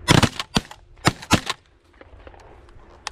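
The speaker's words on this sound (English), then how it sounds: "Good shooting." A rapid burst of shotgun fire while hunting pigeons over a feed field, with roughly five sharp cracks in quick succession, each distant and fairly faint, followed by quieter fading clatter.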